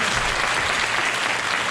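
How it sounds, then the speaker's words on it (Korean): Audience applause at an event introducing a world-class violinist: a dense, steady wash of many hands clapping, loud and close, holding evenly for under two seconds with no voices on top. "네, 박수 한번."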